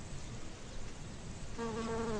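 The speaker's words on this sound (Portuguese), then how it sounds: "o hábito das abelhas de carregar o pólen nas patas enquanto voam de flor em flor" Bees flying among flowers give a steady insect buzz that grows a clearer droning hum with tonal overtones in its last second, close and continuous with no voices.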